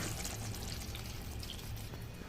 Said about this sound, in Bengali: এবার আমি এতে দেবো দু কাপ পরিমাণে নারকেলের দুধ